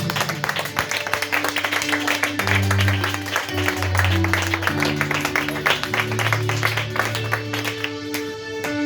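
A church congregation claps rhythmically to acclaim the Lord, steady loud handclaps woven with organ or keyboard chords and sustained musical tones throughout.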